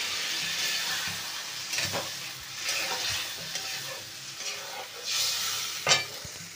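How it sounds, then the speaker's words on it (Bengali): Duck eggs and pointed gourd stir-frying in a pan, a steady close sizzle with scraping stirs and sharper spatula clatters throughout, no talk. "ভালো করে কষিয়ে নিই। এবার একটু জল দিয়ে দিলাম"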